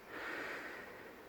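Bees buzzing around a swarmed hive, a soft steady hum lasting about a second and a half, close and fairly quiet with no talk.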